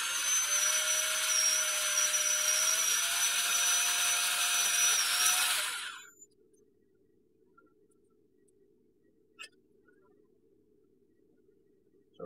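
A high-pitched power drill whines steadily for about six seconds drilling a Ruger 10/22 rifle stock, then stops, leaving a low hum and a couple of faint clicks.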